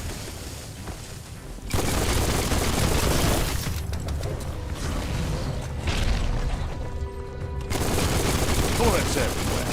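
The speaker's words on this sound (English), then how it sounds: "Bullets everywhere." Video game gunfire in a post-apocalyptic shooter, with loud, dense bursts of automatic shots and booms that run almost continuously, briefly easing near the middle before firing picks up again.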